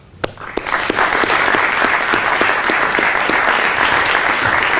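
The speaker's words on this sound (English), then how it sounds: "I think the donors deserve a round of applause" An audience at a donor recognition luncheon gives scholarship donors a round of applause, a few sharp early claps swelling quickly into dense, steady clapping that holds strongly to the end.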